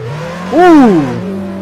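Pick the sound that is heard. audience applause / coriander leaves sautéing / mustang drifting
mustang drifting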